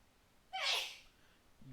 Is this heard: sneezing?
yes